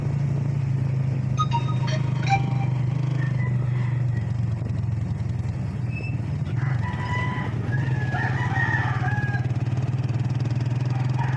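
Chickens cluck and a rooster crows intermittently near a four-lane road, over a steady low rumble of passing traffic and motorbikes.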